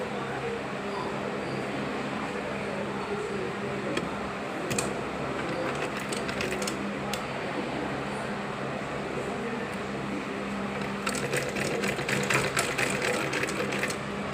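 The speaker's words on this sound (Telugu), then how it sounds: "ప్రజెంట్ మన దగ్గర వీళ్ళు ఈ క్లాత్ తెచ్చుకున్నారు కాబట్టి మనం దీనిపైనే స్టిచ్చింగ్ చేసి చూపిస్తున్నాము" Sewing machine stitches a neckline on cotton cloth in a tailoring lesson, running with a steady mechanical whir and a faster rattling burst near the end, close by.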